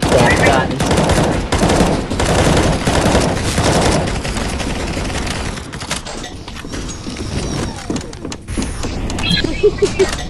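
Rapid gunfire from guns in CS:GO on a survival workshop map, dense bursts filling the first several seconds, then sparser shots and game noise, with voices talking over it.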